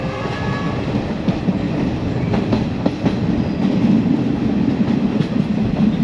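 A second class train ride in Sri Lanka, with a steady rolling rumble and clickety-clack of the railcar on the tracks. Faint rattles and knocks come through, and no voices are heard.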